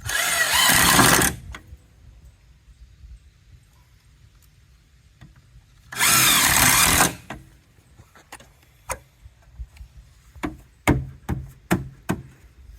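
A power drill whirs close by in two short, loud bursts, driving self-tapping screws into a Jeep body panel. Quieter ticks and clicks of handling follow.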